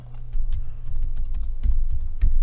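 Rapid clicking keystrokes on a computer keyboard, close and crisp, in irregular bursts over a faint low hum with no talking.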